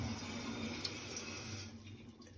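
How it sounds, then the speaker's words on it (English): A toilet running continuously after flushing, a faint steady hiss and trickle of water refilling the tank, quiet and unbroken with no talk. "Toilet's running."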